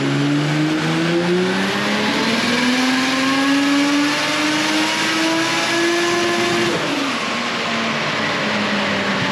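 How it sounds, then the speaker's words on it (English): A Nissan Skyline R33 on a dyno roller, not settled properly, revs loudly with rising engine pitch that climbs steadily, then drops sharply near the end, sounding close and continuous with no talk. "This is what the power does when the car's not settled on the roller properly"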